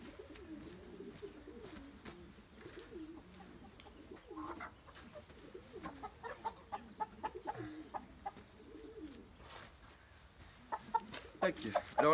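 An Araucana rooster and chickens cluck and coo softly in a steady stream, with a few sharper calls and knocks near the end.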